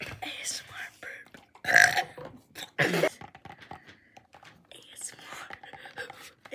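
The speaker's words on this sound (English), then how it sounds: "ASMR burp." ASMR burps made close to the microphone: several distinct loud belches mixed with soft whispering and quiet mouth noises.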